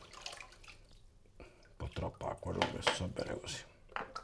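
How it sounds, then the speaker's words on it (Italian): Water is splashed and dripped onto a hard shaving soap in a bathroom, light wet dabbing and trickling sounds that come and go at close range. "Allora vado, bagno il sapone perché il sapone è leggermente duro."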